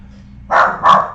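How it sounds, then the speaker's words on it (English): Protection dog barking indoors, two loud, close, sharp barks in quick succession after a quiet moment. "protection dog."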